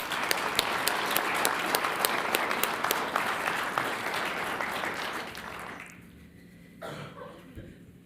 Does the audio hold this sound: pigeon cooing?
no